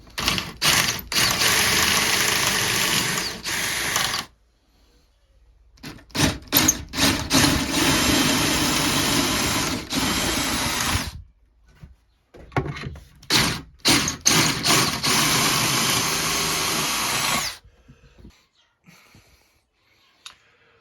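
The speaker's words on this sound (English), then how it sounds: "Let's do some drilling." A pocket hole drill runs in several loud bursts of a few seconds each, boring pocket holes into wood, separated by short pauses.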